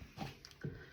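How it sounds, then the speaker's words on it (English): A dog whimpers and yips in brief, faint bursts, a couple of short cries within a second, somewhat distant. "You can hear my dogs in the background."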